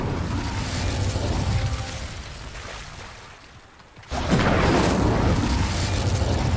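Incendio fire spell cast in the video game Hogwarts Legacy: a roaring, rushing whoosh that dips briefly, then surges back in a loud sustained burst of fiery noise.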